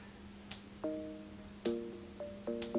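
Soft tonal music with plucked notes and chords plays at a low level from an iPhone, slightly thin and distant, with no talking.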